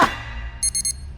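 An alarm clock in an animated cartoon rings in three quick bright electronic bursts, loud and close, over a low background hum after a brief opening sound.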